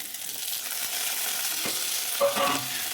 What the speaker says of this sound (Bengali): নেড়ে চেড়ে ভাজবো ভালোভাবে।